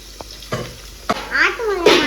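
Masala for mutton curry sizzles in a pan while a spoon scrapes and stirs it, with a few sharp knocks and a rising hiss up close.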